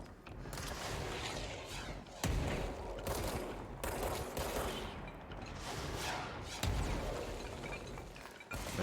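Rocket launcher blasts and explosions go off in the video game Control. Sharp impacts land every second or so over a dense, loud, noisy rumble of gunfire and debris.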